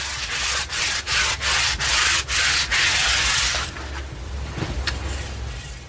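A spare tent-fabric cloth rubs homemade polish onto a wooden tent beam in steady, close back-and-forth strokes, each a loud scratchy swish with brief gaps, before the rubbing softens and fades into quieter handling.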